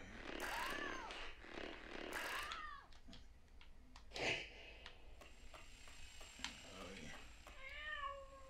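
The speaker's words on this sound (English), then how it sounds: "Hearing a cat." A cat meows in the Lego Incredibles video game, two clear meows near the start and another toward the end, mixed with scattered game sounds and clicks.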